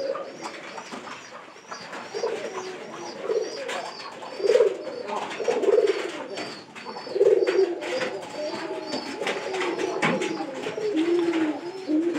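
Pigeons coo repeatedly near a cage set up so a hen pigeon learns its home loft, soft throaty calls rising and falling at close range over a steady background hiss.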